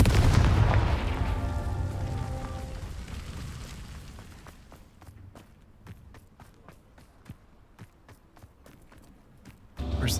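A Confringo blasting spell goes off in Hogwarts Legacy, a loud booming burst that rumbles and fades over several seconds. Quick footstep-like taps follow, with a sharp thump at the end.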